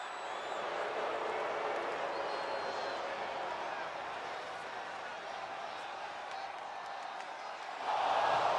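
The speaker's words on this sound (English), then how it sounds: "this crowd is buzzing over that" Arena crowd in the WWE 2K25 wrestling video game buzzing with a steady, dense murmur throughout, swelling slightly louder near the end.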